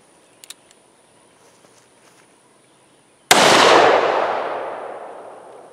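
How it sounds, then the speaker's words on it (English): After quiet with a few faint clicks and footsteps, a single deafening .44 revolver shot cracks into melted HDPE plastic outdoors, its boom rolling away in a long fading echo. "So now let's shoot the plastic with the 44 sledgehammer."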